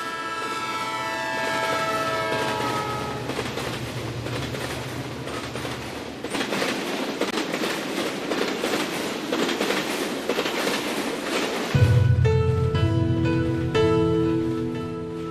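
A train pulls away from a station, a steady rumble and rattle of rail cars running for several seconds; partway through, a loud low horn-like blare cuts in over the rolling noise.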